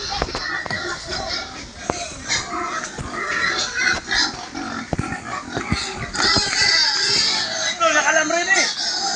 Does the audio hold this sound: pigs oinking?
yes